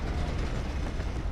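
A train in the video game Red Dead Redemption 2 rumbles steadily and loud, a dense continuous roar of rolling wheels and engine with no talk.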